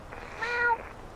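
A single short meow rings out close and clear over a steady low background hum.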